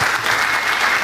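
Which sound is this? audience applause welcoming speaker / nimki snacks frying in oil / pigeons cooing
audience applause welcoming speaker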